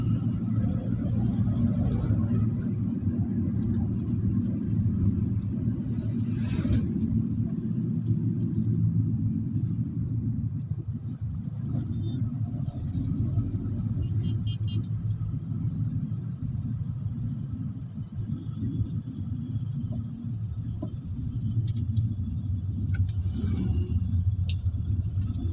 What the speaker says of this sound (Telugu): ట్రాఫిక్ బాగుంది, ఎక్కువగా ఉంది బాగా